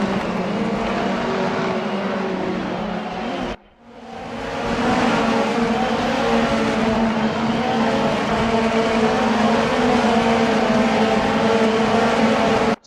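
Race cars at the SUGO circuit in a racing video game, with a loud, continuous roar of revving engines that briefly cuts out, then climbs back in pitch and carries on steadily. No one speaks.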